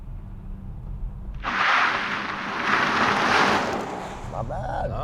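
A 2023 Polestar 2 electric car with two motors making 408 horsepower accelerates hard without launch control. Rushing wind and tire roar swell suddenly and hold steady inside the cabin.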